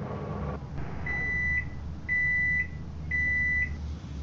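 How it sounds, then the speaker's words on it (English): A video game microwave oven hums steadily, then gives three evenly spaced, sustained electronic beeps roughly a second apart, clear and alone over the low drone. "This microwave sucks. Just a regular microwave."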